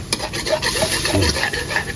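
Food being stirred in a pan, short scraping and rubbing strokes with faint sizzling underneath, close and fairly clear.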